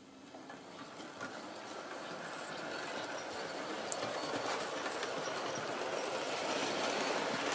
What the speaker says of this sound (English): Bit of track noise over there.